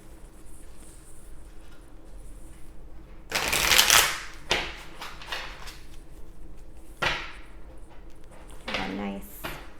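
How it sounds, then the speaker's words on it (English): Tarot cards shuffled by hand at a table, a few bursts of crisp riffling and slapping card noise, the loudest near the middle, separated by quieter pauses with light handling sounds. "A nice, good shuffle for you guys."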